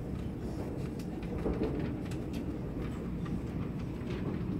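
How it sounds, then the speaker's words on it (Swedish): A steady low rumble of a Stockholmståg X60 commuter train rolling on rails between Stockholm C and Sundbyberg, with faint rhythmic clicks from the wheels and no voices. "Det är det Märsta tåget."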